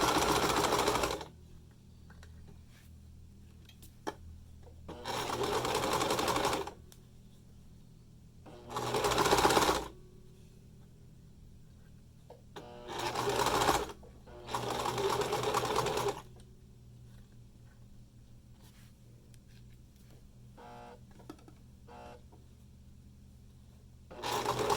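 A sewing machine stitches through five or six layers of fabric for a face mask, running in short loud bursts of rapid mechanical chatter separated by quiet pauses.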